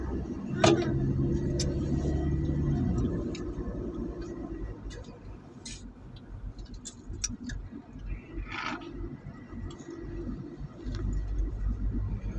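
A car drives along a zigzagging, curving road toward Sariaya, its steady engine and road rumble heard from inside, with light ticking and a few brief knocks.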